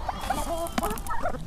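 Chickens clucking close by on a farm in Kosovo, several short squawky clucks scattered through a brief stretch with faint background noise.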